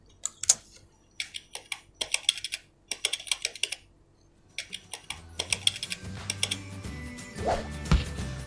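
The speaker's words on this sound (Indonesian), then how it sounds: "cara mudah untuk membuat efek teks mengetik" Bursts of rapid keyboard typing come in quick clattering runs with short pauses, then continue under a low background hum.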